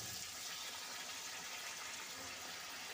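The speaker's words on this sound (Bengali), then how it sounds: "আমি এবারে দিয়ে দিচ্ছি গরম জল।" Hot water is poured into a pan of broccoli, potato and tomato curry, a continuous rushing, gushing stream that holds steady throughout, close by.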